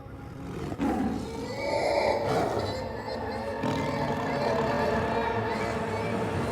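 Tigers growling and roaring in a comedic animated adventure, a loud continuous rumbling growl that swells and holds across the whole clip with no talk over it.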